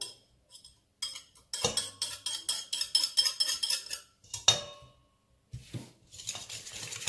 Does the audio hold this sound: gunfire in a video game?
no